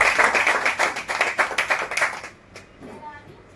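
A room of people at a network marketing training session claps loudly and rhythmically for about two seconds, then the applause fades out into quiet voices.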